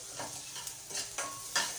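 Rice kofta going into a pan with potatoes and tomato sauce, soft sizzling under a few stirring scrapes, faint and close, with no talk.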